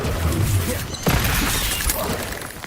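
Spells Depulso and Stupefy cast in Hogwarts Legacy, a dense crackling, shattering burst with a sharp impact about a second in, over a continuous loud game backdrop.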